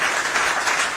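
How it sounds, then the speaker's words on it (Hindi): A steady burst of crowd clapping fills the moment at a Delhi BJP health volunteers campaign event, dense and continuous with no voices over it. "एक बारी जोरदार तालियां बजनी चाहिए दिल्ली के हमारे"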